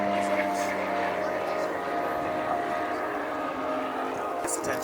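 Swiss PC-7 team propeller aircraft flying past at an air show, a faint steady drone with a public-address announcer talking over it.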